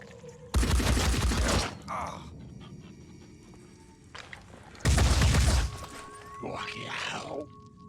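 Gunfire in the turn-based video game Phoenix Point: two loud, dense bursts of rapid shots roughly four seconds apart, each about a second long, with grunting and pained vocal sounds from characters between and after them.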